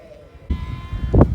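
Ewes and their twin lambs, newly combined from two groups, bleat in a field at Shimpling Park Farm. One loud, nearby bleat rises sharply from low rumbling background noise.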